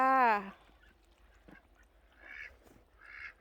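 Duck on a farm abroad giving one loud nasal quack at the start, followed by softer scattered calls and quiet rustling against a low background hum.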